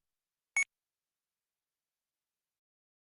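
A single short electronic beep sounds once, crisp and isolated, signalling the start of a test recording and followed by silence.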